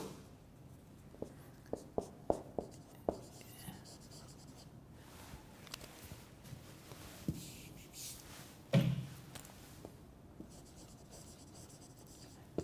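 Chalk or marker writing on a board during a classroom lecture, faint irregular taps and scratches with quiet pauses, heard at low level.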